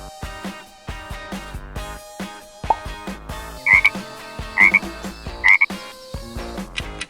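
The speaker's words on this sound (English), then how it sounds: "Frog." A frog croaks three times in a steady rhythm, each call loud and close, over a busy musical background with no talking.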